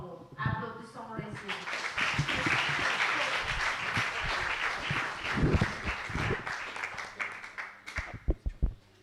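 An audience claps at a choir's ceremony honoring its elders, uneven applause rising and falling in waves with a voice speaking briefly at the start, ending in a few loud, isolated claps.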